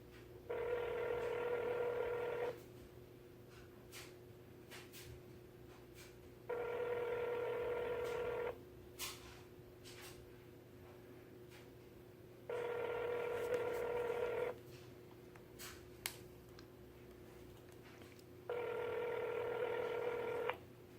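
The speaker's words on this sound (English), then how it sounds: "So we're calling this old manager up here." A telephone dials out to reach a restaurant manager, with four repeated ringback tones in a steady on-off rhythm, each about two seconds long, over a quiet background with no voices.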